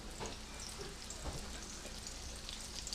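Crab cakes fry in a hot pan, a dense continuous crackling sizzle with tiny pops throughout, close and fairly quiet, with no voices.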